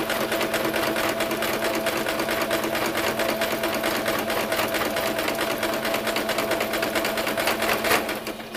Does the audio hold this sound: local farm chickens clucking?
no